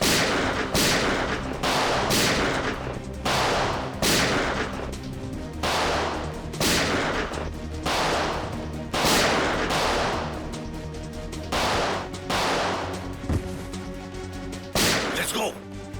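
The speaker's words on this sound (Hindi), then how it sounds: "बाहर गोली चलने की आवाज" Gunshots ring out outside a building during a TV crime drama, a rapid series of sharp, loud bangs repeating irregularly through the scene amid a dense, dramatic background with some voices.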